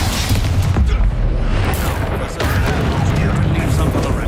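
The Bombarda blasting spell in Hogwarts Legacy lands during a fight with a troll, giving heavy, loud booms with a rumbling low-end impact amid dense game noise.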